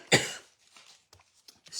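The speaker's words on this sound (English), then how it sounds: "Don't you hate it when you start coughing?" A single sharp cough bursts out close to the mic, followed by faint throat and breathing sounds in a quiet room.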